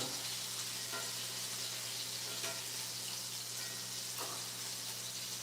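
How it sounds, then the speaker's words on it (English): Collard greens sauteing in a pan with steady, moderately loud sizzling and crackle, a few soft stirring scrapes breaking through the constant hiss, with no voices. "sauteing my greens, I'm going to put a little olive oil."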